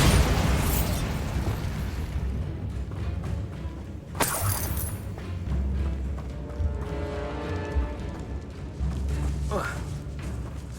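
A Bombarda blasting spell detonates in the video game Hogwarts Legacy, a sudden sharp burst with crackling debris. It rises over a steady rumbling game soundscape and is followed later by a fainter pop.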